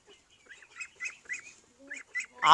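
Chinese ducks on a duck farm give a run of short nasal quacks and honks, several calls in quick irregular succession, close and clear against a quiet background.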